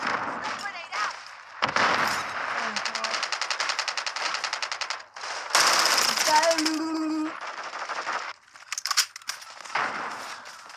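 Modern Warfare 3 gunfire, with rapid automatic bursts and loud rattling volleys in quick succession, broken by short gaps and mixed with game voice callouts.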